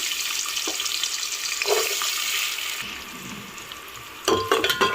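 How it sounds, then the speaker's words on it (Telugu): Chopped onions go into a hot pan with whole spices for chicken pulao. A continuous close sizzle hisses throughout, and clattering stirring knocks come near the end. "ఇప్పుడు ఇందులోకి మనం కట్ చేసి పెట్టుకున్న ఆనియన్స్ వేసుకుందాము."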